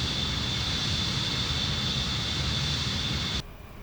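Four Concorde jet engines with reheat engaged roar steadily in Microsoft Flight Simulator 2020 at takeoff, a loud sustained broadband rumble with a high whine that cuts off abruptly near the end.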